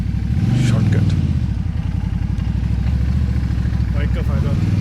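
Motorcycle riding through rush-hour traffic in Wuhan near the Hubei port industrial area, its engine thrumming steadily and close with a rapid pulsing rhythm, plus brief horns or vehicle noises around it; someone talks during the ride.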